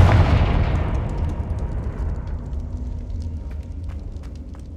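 A Confringo fire-blast spell in Hogwarts Legacy on PS5 bursts with a loud booming explosion that rolls into a long fading rumble and crackle. No voices accompany it.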